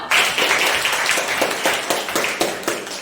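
Classroom applause from students after a pupil's presentation, a steady burst of many hands clapping with uneven rhythm, fairly close and filling the room, no talking over it.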